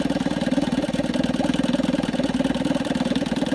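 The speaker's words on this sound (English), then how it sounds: "Idles down really nice, smooth as can be. Very quiet, idles way down." A 1953 Evinrude Lightwin 3 hp outboard motor idling low and smooth, a steady rapid putter with an even pulsing rhythm, close and moderately loud with no talk over it.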